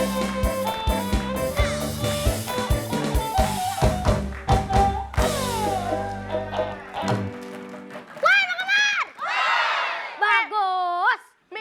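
A group in a Betawi lenong comedy stage sketch yells together with energetic enthusiasm after a burst of loud music and percussion, the voices rising in excited, sliding shouts near the end.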